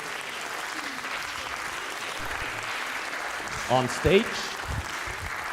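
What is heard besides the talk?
long audience applause at a science show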